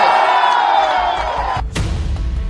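A large crowd at an Akhilesh Yadav political rally in Bihar roars and cheers in a loud sustained wash of voices, broken by a sudden bang and rumbling noise near the end.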